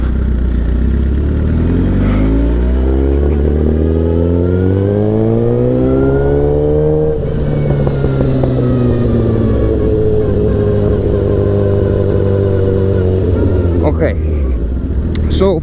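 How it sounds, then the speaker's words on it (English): A motorcycle engine revs and pulls away, its rising and falling pitch sweeping up over several seconds, loud and close, then settling into a steady running drone with a brief sharp burst near the end. "screw it, let's take the bike out"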